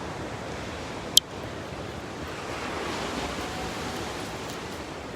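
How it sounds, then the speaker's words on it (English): Ocean waves break and wash in at Redondo Beach Pier, a steady broad roar of surf with a single sharp click early on, no talking. "The waves are so scary though."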